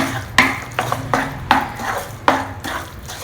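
A spoon stirs jaggery powder into a cooking dish on the stove, each stroke a regular scraping clatter against the pan, about five strokes in three seconds, close up over a soft sizzle.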